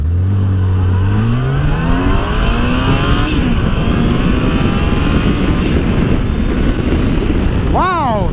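A Yamaha FJR 1300 AS motorcycle accelerates hard at full throttle, the engine note climbing steeply through the gears over loud rushing wind, with a voice near the end.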